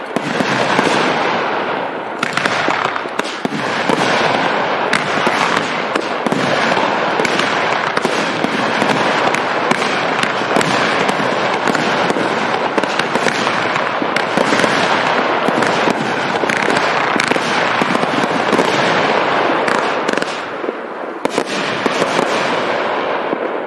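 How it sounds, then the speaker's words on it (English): Magnus fireworks cake of 12 short angled cakes firing in a dense, continuous barrage of loud bangs and crackling bursts, with rapid sharp reports running almost nonstop throughout. "Enjoying some southern hospitality with the full pack of 12 short angled cakes."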